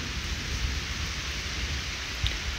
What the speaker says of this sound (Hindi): भाई देखो सारे पास चारों पास बारिश हो रही भाई,